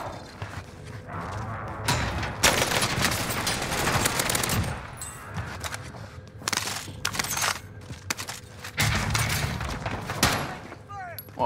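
Gunfire in Warzone from a Tech 9 on single-shot fire, repeated loud cracks and bursts mixed with other combat noise, with a voice talking throughout.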